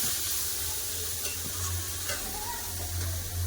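Pumpkin fries in a pan while being stirred, a steady close sizzle broken by soft scraping and a few light clinks of the utensil.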